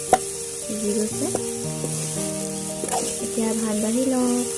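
Leheti saak greens are stir-fried in a wok in a village kitchen, a close, continuous sizzle with stirring scrapes, accompanied by faint steady tonal sounds in the background and no voices.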